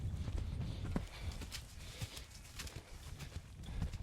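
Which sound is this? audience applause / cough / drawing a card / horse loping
horse loping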